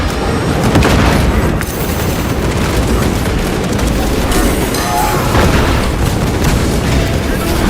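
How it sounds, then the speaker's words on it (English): A stun grenade detonating in Warhammer 40,000: Space Marine 2 amid ongoing combat: loud, dense booms and gunfire layered over one another, sustained and close, with voices partly buried in the din. "Stun grenade downrange."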